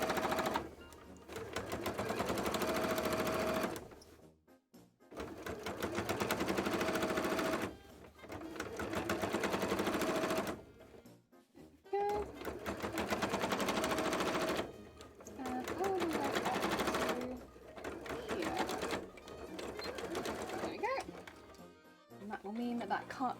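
A sewing machine stitches a costume tail in long steady runs of rapid mechanical chatter, pausing briefly several times between bursts, heard up close.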